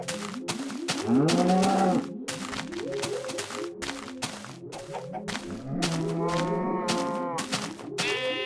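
Several cows moo in the video game Morecraft, long loud bellowing calls that overlap and follow one another close by, with clicks and game sounds between them.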